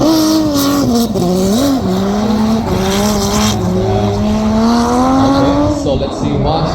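Drift car pushed around the Bishopscourt track at a drifting event: a loud, wavering engine note that rises and falls with throttle, with tyre squeal over it, while a commentator talks throughout.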